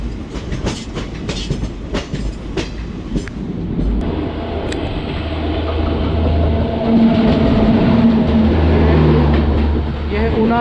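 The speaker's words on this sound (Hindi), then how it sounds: "यह है ऊना जनशताब्दी एक्सप्रेस" Una Himachal Jan Shatabdi Express train running on the rails, a loud steady rumble with rhythmic wheel clatter close by, growing heavier in the second half; a voice is heard faintly underneath.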